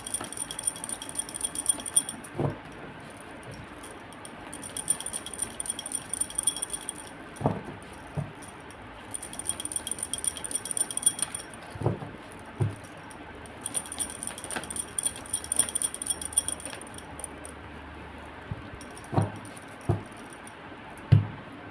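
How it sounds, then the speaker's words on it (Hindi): Tarot cards being shuffled during a love reading, giving soft papery rattles and riffles in repeated bursts with short pauses, close and fairly quiet, with no talking. "Just a minute, let me shuffle."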